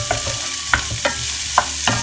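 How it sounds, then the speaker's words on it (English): Onions fry in a pan for chicken tikka masala, with a constant close sizzle broken by several sharp scrapes and knocks of a stirring utensil in an uneven rhythm. "So we just fry those off."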